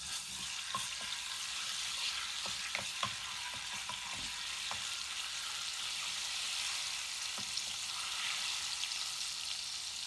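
Garlic frying in hot oil in a pan, a steady loud sizzle with occasional stirring clinks and scrapes throughout.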